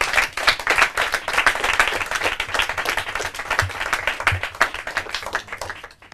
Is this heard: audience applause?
yes